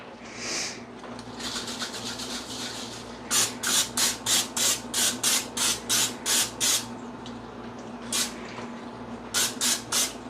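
Vegetable oil sprayed from a can to coat a cooking pan: a few early hisses, then a steady series of about nine short rhythmic sprays, a pause and a few more, close and clear over a low kitchen hum.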